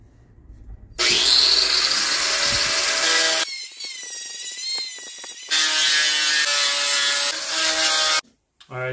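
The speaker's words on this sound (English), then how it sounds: "So I am just gonna be sanding this down. I'm using 120 grit sandpaper," Harsh, rasping abrasion of 120 grit sandpaper on a metal 4Runner front bumper, in long bursts broken by short pauses, loud and close, with no talking.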